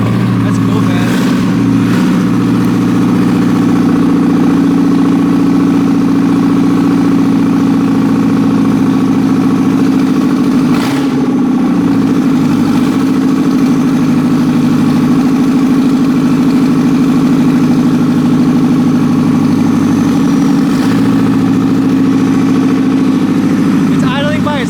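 A Nissan KA24E engine with its emissions equipment removed idling with a steady low rumble, loud and close, holding an even tone throughout with small fluctuations.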